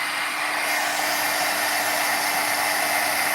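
Hot air heat tool blowing steadily, used near glass while applying rhinestone sheets; a continuous loud, even whoosh with no pauses, alone without voices.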